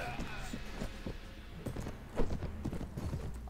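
Hoofbeats of a ridden donkey in the video game Mount & Blade: Warband, a steady clip-clop rhythm of moderate loudness, with game noise and voices mixed in.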